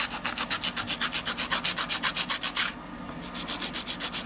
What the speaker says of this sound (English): We're just gonna go ahead and do some filing.